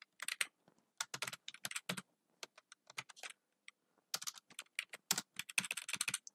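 Rapid clicking of keys on a computer keyboard while coding a web page, arriving in quick bursts with short pauses between them, close and fairly quiet with no talking.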